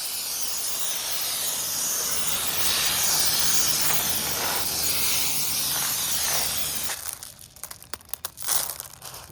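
A water spray hisses steadily over a pile of aggregate stones being rinsed for exposed aggregate concrete, with a loud rushing wash for about seven seconds before it breaks into sputters and splashes.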